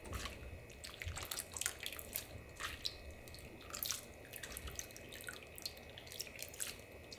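Water drips and trickles steadily from blanched baby octopus (jukkumi) as it drains after a quick boil in a home kitchen, a quiet, close patter of small drops with no speech.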